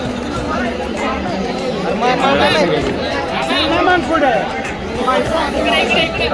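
Crowd chatter at Ganpati darshan in Pune: a dense, close hubbub of many voices talking at once, with nearer speakers standing out and steady babble throughout.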